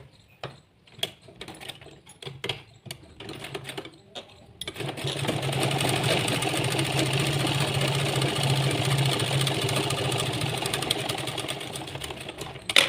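A sewing machine stitches the V neck of a sleeveless blouse, with a steady, loud, close mechanical whir running for about eight seconds after a stretch of scattered handling clicks and taps.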